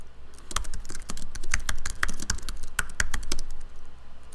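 Rapid close typing on a computer keyboard as a terminal command is entered, a busy run of crisp key clicks in uneven bursts with no voice over it.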